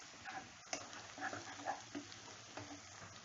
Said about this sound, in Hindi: इसमें 3 से 4 कटी हुई हरी मिर्च डाल दें। इसे भी भून लें हाई फ्लेम पे।